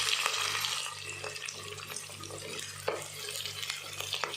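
Onion and green chili frying together in a pan, a steady soft sizzle with occasional stirring scrapes and clinks, close and moderately quiet, no voices.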